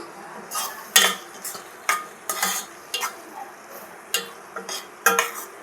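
Fish and brinjal curry stirred in a pot: a series of about a dozen distinct scraping and clinking strokes of a spoon against the metal, close and irregularly spaced over a quiet background, no speech.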